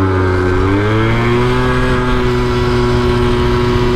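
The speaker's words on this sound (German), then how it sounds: "das ist auch so ein Schaltmoped, aber ein 125er ist das." A 125cc geared moped with a stock exhaust idles steadily close by, a low, even engine drone holding throughout with a slight rise in pitch near the start.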